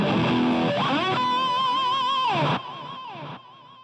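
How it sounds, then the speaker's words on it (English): A distorted electric guitar through a BOSS GT-8 multi-effects unit plays sustained bending notes with delay repeats trailing after each phrase, loud and alone before decaying echoes fade out. "Going back to the distortion, you can add a delay"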